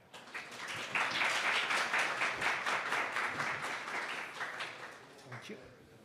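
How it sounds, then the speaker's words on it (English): An audience at the PyCon JP 2022 conference claps for a speaker after a network science talk, a dense burst of hand claps swelling in then tapering off over several seconds, moderately loud, with murmured voices underneath. "please give a big round of applause to the speaker"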